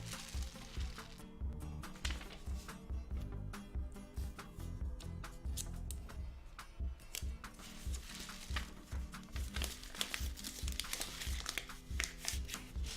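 Paper crinkles and crackles continuously while the open end of a homemade rice-filled rain stick is sealed, a close, busy rustling with sharp crackly bursts throughout.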